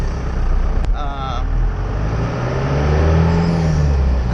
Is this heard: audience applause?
no